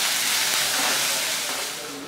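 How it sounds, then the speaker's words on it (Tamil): Steady loud sizzling hiss of onions frying in a pan, continuous and close, fading slightly toward the end with no talking. "வெங்காயம் பாதி அளவுக்கு ஃப்ரை ஆகுதுங்க"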